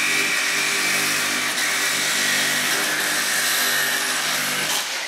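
Milwaukee M18 Fuel and DeWALT FlexVolt cordless reciprocating saws cut side by side in a head-to-head test, making a continuous loud, buzzing, rasping roar throughout with no pauses.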